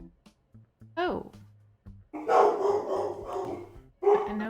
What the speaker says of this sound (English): sorry about my dogs, y'all